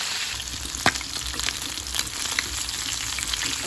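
Dalagang bukid fish frying in a pan after being flipped, a steady close sizzle with scattered crackles and pops throughout, no talking.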